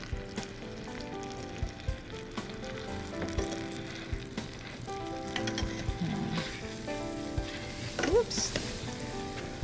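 Spiced pork searing in a pan for a slow-cooked chipotle barbecue dish, giving a steady low sizzle with occasional pops and scraping, fairly faint and close, with some background speech.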